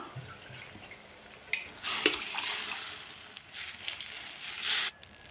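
Water splashes and pours into a metal pressure cooker in short bursts as it is rinsed, with a brief clatter, fairly close.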